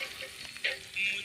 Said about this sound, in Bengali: বোয়াল মাছ ফ্রাই হচ্ছে